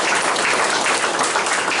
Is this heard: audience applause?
yes